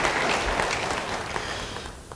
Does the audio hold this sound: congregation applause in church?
yes